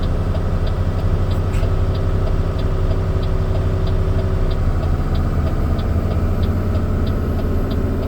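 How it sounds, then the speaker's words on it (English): A Volvo truck with automatic shifting uses its engine brake on a long downhill grade of BC Highway 24. It gives a steady, close low drone throughout, with a regular light ticking on top. "And then I just use the engine brake"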